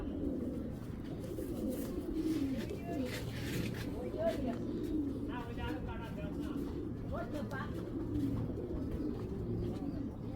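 Racing pigeons cooing in low, steady murmurs that run throughout, with people talking nearby underneath.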